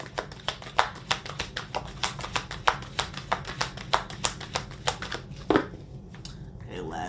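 A deck of cards being shuffled by hand, with a quick run of crisp, close taps and riffling clicks in a steady rhythm for several seconds, followed by a brief louder rustle.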